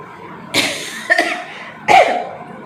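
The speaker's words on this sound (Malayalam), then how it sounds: "ചുമ നല്ല രീതിക്ക് പിടിപെട്ടു." A woman coughing indoors in a village home, two loud close harsh coughs separated by a short pause, with a brief throaty sound between them.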